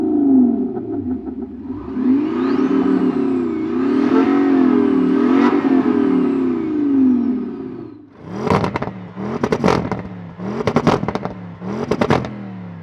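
A 550 hp bi-turbo diesel Audi A6 Allroad and a 600 hp Audi RS6 Performance rev loudly, first a long wavering drone of blips, then four sharp, separate throttle stabs with crackling bursts.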